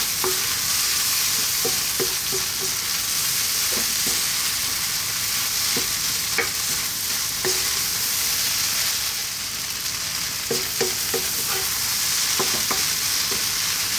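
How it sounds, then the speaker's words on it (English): Black bean and vegetable burrito filling hisses steadily in a hot pan while cooked rice is mixed in, with scattered light spoon scrapes and taps over the constant sizzle, near and without talking. "let's drop in our cooked rice. Give that a little mix."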